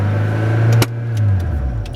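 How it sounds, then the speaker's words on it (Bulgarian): A learner driver's car engine rises in a steady low drone as the clutch is let out, with a sharp click partway through, then the engine holds and swells again; no talking over it. "Почвай да отпускаш съединителя и подай газ."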